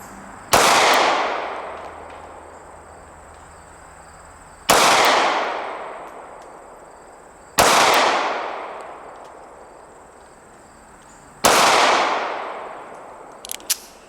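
Four loud, sharp pistol shots from a Ruger LCP II, spaced a few seconds apart. Each crack trails off in a short ringing decay, and faint clicks follow near the end.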